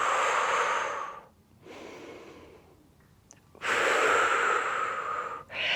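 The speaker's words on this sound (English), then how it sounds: "Breathe in, breathe out." Heavy breathing during a Pilates exercise: a few long, breathy inhales and exhales, close to the mic, the last one loudest and most forceful, with short quiet gaps between them.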